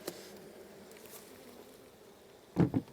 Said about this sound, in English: Obviously we have bees.